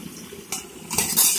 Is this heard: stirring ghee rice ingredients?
yes